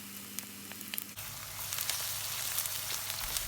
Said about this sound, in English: Add the chopped green chilies and fry for 3 minutes.